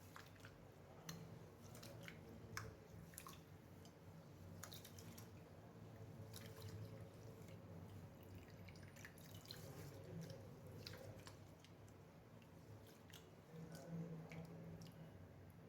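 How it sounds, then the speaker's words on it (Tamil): Wet squelching and swishing of foxtail millet grains rubbed by hand in water, with soft drips and splashes, close up and fairly quiet. "நல்லா தண்ணி ஊற்றி ரெண்டு மூணு தடவை நல்லா கழுவி எடுத்துக்கலாம்"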